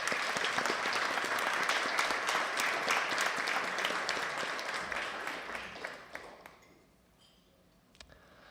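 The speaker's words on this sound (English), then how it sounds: "So let's give our sponsors a round of applause." Many hands at a charity gala and auction applaud the sponsors, loud and dense at first, then thinning into scattered claps that fade to near quiet, with a few last isolated claps at the end.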